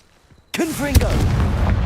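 A Confringo fire spell from Hogwarts Legacy blasts after a brief quiet moment, a sudden loud whooshing boom with a rising and falling tone that rolls on into a sustained rumble.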